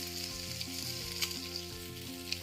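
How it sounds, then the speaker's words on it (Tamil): Chicken pieces sizzle steadily as they grill without oil in a pan, a close, continuous crackle with occasional sharper pops. "கொஞ்சம் தூரமாக சேர்த்துட்டு நல்லா ஒரு கிரில் ஆகட்டும்"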